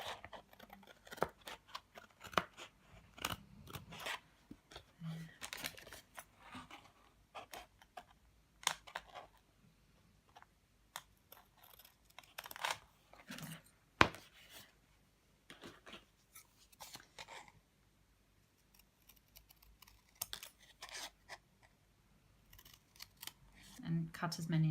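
Scissors snip through card along marked lines for a handmade Christmas card, producing quiet, close, irregular crisp cuts in short bursts with pauses between them.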